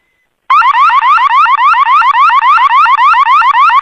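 A loud motorcycle alarm wails continuously, cycling through rapid rising sweeps in a steady repeating pattern, close and alone with no voices.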